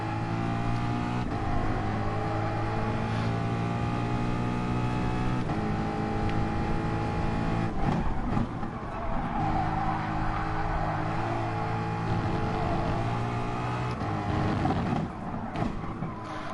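Race car engine in Gran Turismo Sport, loud and continuous with sustained harmonic whine, revving up through gears with brief shift dips, close and steady throughout with no talk.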